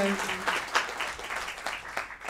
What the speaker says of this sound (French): Encore un tonnerre d'applaudissements pour Martin Ville, s'il vous plaît